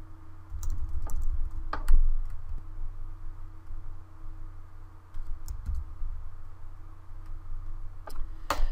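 Typing on a computer keyboard while entering a class name, a steady run of soft close clicks and taps with a few louder keystrokes over a low hum, no speech.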